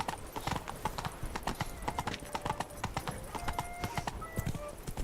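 Roach, the horse from the Witcher 3 video game, gallops with a quick, steady clip-clop of hooves close by, a faint whinny mixed in and no talking.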